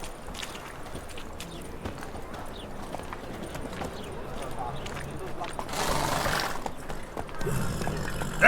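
Rapid clip-clop of Geralt's horse Roach galloping in The Witcher 3, a steady fairly quiet hoofbeat rhythm beneath ambient game sound, with brief speech on top.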